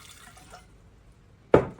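A small splash of water poured onto chopped onion while preparing a glaze for grilled pork ribs, a brief close pouring burst after a near-silent stretch.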